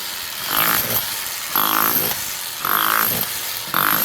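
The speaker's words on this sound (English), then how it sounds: "That is an awesome little rotary hammer." A Revvstark 13-amp SDS-Plus rotary hammer drill runs in hammer-only mode, hammering in loud, close bursts that repeat about every second with a steady motor drone between them, and no speech.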